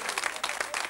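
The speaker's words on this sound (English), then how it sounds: "Give a nice round of applause, please, ladies and gentlemen, for Teddy Sheringham." A studio audience claps for footballer Teddy Sheringham in a brief, dense burst of applause at close range.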